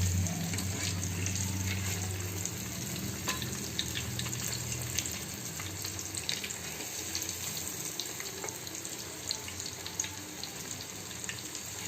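Chicken paste patties fry in oil in a pan, making a continuous, close, crackling sizzle that stays even throughout, with a low hum underneath and small spatters scattered across it.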